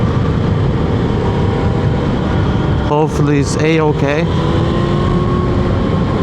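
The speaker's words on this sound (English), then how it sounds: "The engine is running a lot smoother than it was previously." A motorcycle engine runs steadily after an oil and coolant change, a constant close drone throughout, with someone speaking briefly over it partway through.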